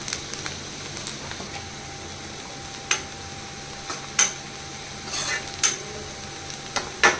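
Onions frying in a pan as a Malvani-style offering dish is cooked, with soft steady sizzling broken by sharp clinks and scrapes of a utensil against the pan, close and alone without talk.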